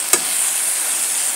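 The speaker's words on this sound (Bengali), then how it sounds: "বেগুনটা অল্প নাড়াচাড়া করে তারপরে আমি মিষ্টি কুমড়োর ডাঁটাগুলো দিয়ে দেব।" Eggplant and potato pieces stirred in a hot wok (kadai), a single quick scrape near the start over a steady, bright frying sizzle that continues to the end.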